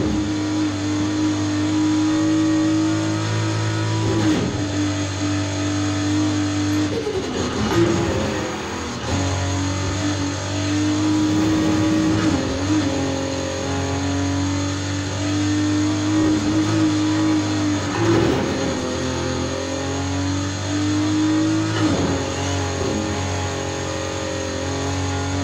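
A 1988 BMW M3 Evolution II engine in Need for Speed Heat, droning loudly and steadily at high revs with repeated shifts and surges as the car accelerates, sustained close and prominent throughout.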